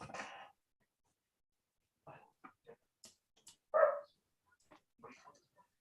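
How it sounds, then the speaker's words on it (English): A dog barks a few scattered times in a quiet room during a live studio broadcast, the short barks and whimpers spaced apart with long silences between them. "Oh, I heard a bark."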